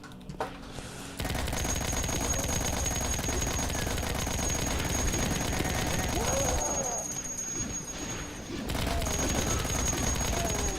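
Rapid chaingun fire from enemy chaingunners in GZDoom running the Akeldama wad on Ultra-Violence, a dense, continuous rattling barrage that drops out briefly before resuming, with a faint voice behind it.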